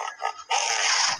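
A rhinoceros calls up close: two short grunting snorts followed by a longer harsh, breathy rasp, heard on its own.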